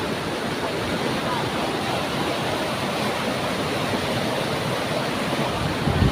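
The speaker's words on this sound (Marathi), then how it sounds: "तर पाणी बघून घ्या, लय खतरनाक पाणी आहे" Dangerously fast river water rushes in a dense, continuous roar, steady and close, with no clear voices over it.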